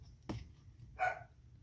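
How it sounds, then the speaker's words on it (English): A dog gives a single soft, low-level bark indoors, faint and short, while a crocheter works quietly with no voices. "Y'all might hear a dog bark."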